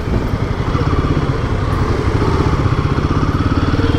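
A Royal Enfield Himalayan motorcycle crawls in first gear through a crowded festive bazaar, its single-cylinder engine thumping in a steady, close, rapid pulse with a light clattery edge, loud and unbroken, with no talk over it.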